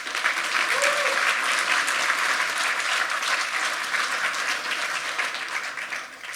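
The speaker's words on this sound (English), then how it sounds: "So let's give them a round of applause." A crowd applauds steadily, a dense wash of clapping that holds for several seconds before gradually thinning out.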